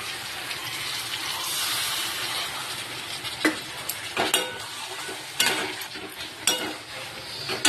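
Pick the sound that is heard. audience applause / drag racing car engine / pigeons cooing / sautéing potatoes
sautéing potatoes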